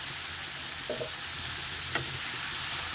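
Steady, loud sizzling of meat frying in a pan with turmeric and home-ground spices, with a couple of soft scraping stirs.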